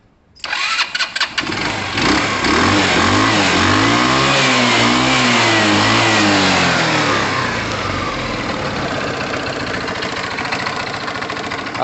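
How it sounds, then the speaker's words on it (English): A Tamoretti retro scooter engine cranks and catches, then revs up and down in several swells before settling into a steady, loud idle close by. "I'm going to fire it up and idle it a while."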